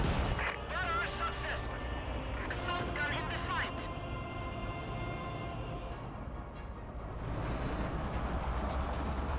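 Katyusha rocket artillery barrage in the World War II strategy game Company of Heroes 2, a loud dense run of rocket launches and explosions over rumbling battle noise while a commentator talks throughout.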